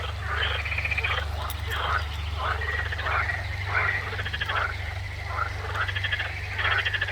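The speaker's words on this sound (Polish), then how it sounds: "Żaby się odezwały." A chorus of frogs croaks in rapid pulsing bursts in an arboretum, many voices overlapping steadily over a low constant hum.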